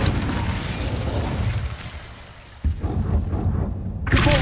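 Incendio fire spell cast in the Hogwarts Legacy video game, a loud roaring whoosh of flame that fades, then a sharp burst and crackling rumble, ending with a bright hissing flare.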